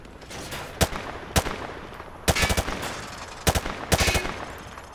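Machine gun fire on a Call of Duty Modern Warfare 2 Remastered training range rips out in several loud, sharp bursts of rapid shots separated by short pauses.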